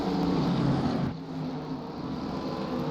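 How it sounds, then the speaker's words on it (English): Modified race cars roaring around Watkins Glen, a dense continuous engine drone that dips briefly midway as they downshift into a braking zone, steady and fairly loud. "These guys all downshift into the"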